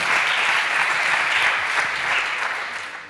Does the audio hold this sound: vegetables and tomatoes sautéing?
no